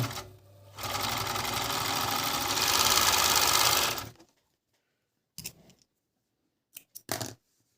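A Dragonfly FN2-8D overlock sewing machine, recently repaired, stitching a seam with a knife trimming the fabric layers: a steady, loud mechanical whir for about four seconds that stops abruptly, followed by a few brief clicks and handling knocks.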